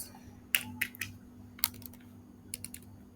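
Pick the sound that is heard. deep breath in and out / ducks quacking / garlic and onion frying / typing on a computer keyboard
typing on a computer keyboard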